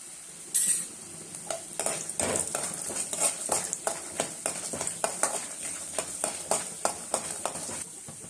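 Chana dal, urad dal and dried chillies fry in a pan for a tamarind rice dish, giving a steady sizzle under repeated rhythmic scrapes and taps of a spoon stirring against the metal.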